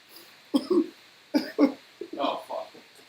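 A person coughs close to the mic in several harsh bursts, bunched in pairs, with some throat clearing and possible speech between them.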